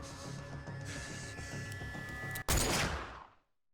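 A single sharp gunshot in the Yakuza-style detective game Judgment, cracking loudly after a steady hum of background game noise and trailing off into a fading echo and silence.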